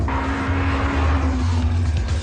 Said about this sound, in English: braking down into fourth, feel those revs, off the brakes, squeeze the power in